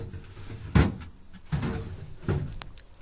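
Large Big Box drawer of an Uğur UED 7246 upright no-frost deep freezer sliding and knocking shut, three distinct thuds spaced about three-quarters of a second apart, close by with no talk.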